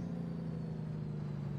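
Truck Jake brake in American Truck Simulator, a steady low droning engine braking tone that holds level throughout the short stretch, with no talk over it.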